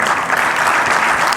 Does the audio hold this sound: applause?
yes